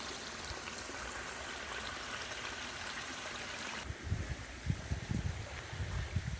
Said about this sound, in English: It's right on this little creek here.